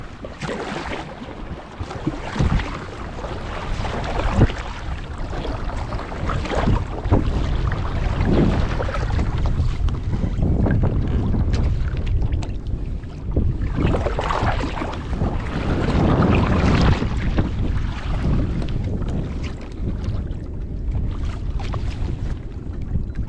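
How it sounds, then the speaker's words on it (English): A Vibe Hydra 130 fishing kayak is paddled on the coast in a strong tide, with constant water wash and heavy wind buffeting the microphone and no talking. "I've been paddling about for a couple of hours now"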